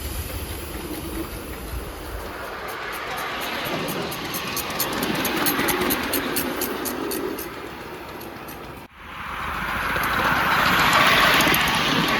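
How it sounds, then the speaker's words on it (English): Rhythmic valve gear clattering on a Kingscale 5-inch gauge 1500 model steam locomotive with wrongly assembled valve gear, over a loud, rushing engine roar, steady and close, with a brief dip before the noise surges back. "it's captured up and clattering and you can hear it clearly."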